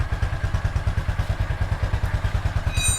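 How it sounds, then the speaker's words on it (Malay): A Honda Wave 125 motorcycle engine idles steadily after starting, a close, loud, even low-pitched putter with rhythmic pulsing throughout. "Sekarang Nas akan start motor ni."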